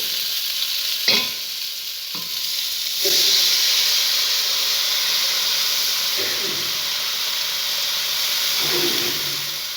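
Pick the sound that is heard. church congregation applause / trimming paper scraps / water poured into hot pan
water poured into hot pan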